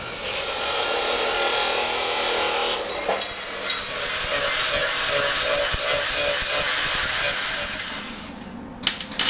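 Sheet metal mounting plates for a tube chassis front end are cut with a power tool, making a loud, harsh, steady grinding rasp that stops near the three-second mark and then gives way to quieter scraping and handling noises.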